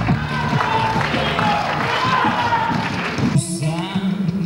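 An audience applauds and cheers for the KVN comedy team Butterfly from Volgograd at a school league semifinal in Rostov-on-Don. A dense, loud crowd roar fills the hall, then a brief music sting cuts in near the end.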